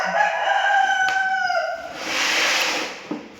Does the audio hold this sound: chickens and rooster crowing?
yes